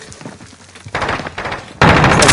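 Rapid bursts of video game gunfire in a soldier shooter match, starting faint and growing louder in two stages, ending in a dense, sustained volley close by. No one talks.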